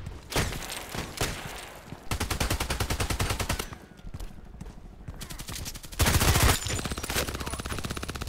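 Rapid bursts of automatic gunfire from an SR3M Vikhr rifle in a shooter game, loud and close, with several distinct volleys separated by short pauses.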